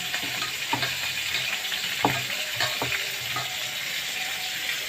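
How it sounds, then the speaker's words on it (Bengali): Fish fries in hot oil with a steady, close sizzle, broken by a few soft pops and stirring knocks, with no speech. "তো চলো, মাছটা ভেজে নিই।"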